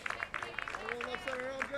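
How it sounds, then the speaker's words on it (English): Hawks fans at a Cape Cod League playoff baseball game between the Hyannis Harbor Hawks and Cotuit Kettleers clap in rhythmic bursts, faint and distant, while someone talks over the crowd. "Hawks fans start to make some noise."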